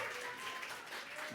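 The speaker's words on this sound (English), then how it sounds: "Give him a round of applause." Steady applause from a crowd fills the space, a continuous wash of clapping at a moderate distance.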